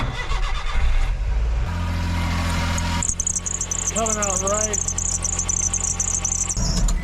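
A K-truck with an oil leak from a melted hose cranks and starts, then runs roughly at a rattly, uneven idle close by, with a brief shrill whine partway through and someone speaking over it.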